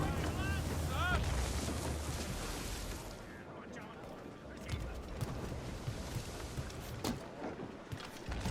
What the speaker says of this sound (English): Dock the ship here, Captain.